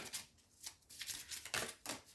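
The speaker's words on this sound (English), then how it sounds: "So I'm just gonna shuffle my Romance Angel Oracles." A deck of Romance Angel oracle cards is shuffled by hand close up, giving repeated soft riffling and flicking bursts in an uneven rhythm, with no talking.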